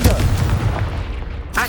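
A Confringo blast spell goes off in the Hogwarts Legacy game, a loud booming, rumbling burst that fills the clip before a short voiced sound near the end.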